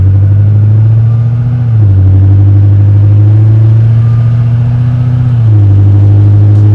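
A 2012 Corvette 4LT with a Lingenfelter-tuned engine of about 700 horsepower revs loudly and close up, its deep rumble rising and dropping twice in steady blips with no talk over it.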